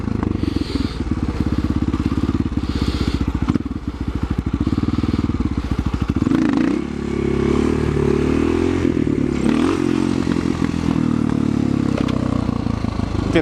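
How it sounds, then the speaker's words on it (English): A motorcycle in first gear doing slow wheelies, its engine chugging and revving loud and close in a steady pulsing drone with clattering and scraping, the pitch dropping and rising as the throttle is worked for the whole stretch. "this is first gear. I'm practicing my brake control and balance on slow wheelies"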